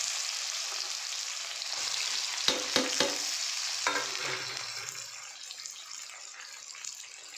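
Mango pieces fry with fennel and carom seeds in hot oil for mango launji, giving a steady broadband sizzle and a few sharp clatters as the fruit drops in and gets stirred, with no talk.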